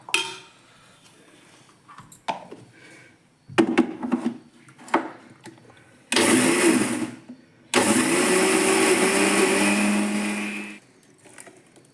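A kitchen mixer grinder whirs through chillies, garlic and cumin in two loud, sustained bursts, the second longer, after scattered clinks and knocks of utensils being handled.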